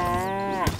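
A single cow moos briefly, deep and tonal, in the South Park Phone Destroyer video game.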